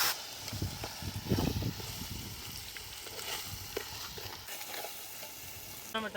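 Garlic and spices sizzling in hot oil up close, with bursts of stirring and scraping in the pan, the crackle steady underneath, while cooking Kutchi kharibhat.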